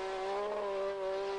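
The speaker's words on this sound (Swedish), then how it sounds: "Här kommer Malcolm Wilson, engelsmannen, som kör en engelsk MG Metro." An English MG Metro rally car at a 1986 Swedish rally stage drives past with a steady, strained engine note, loud and close, held for the whole short stretch without talk.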